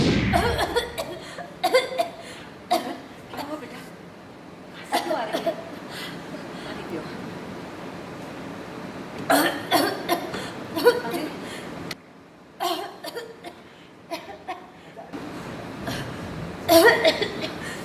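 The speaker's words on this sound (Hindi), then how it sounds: "खांसी आ रही है खांसी क्यों आ रही है?" Several short, sharp coughing bursts break out in clusters over a steady room background, close by, with brief pauses between fits.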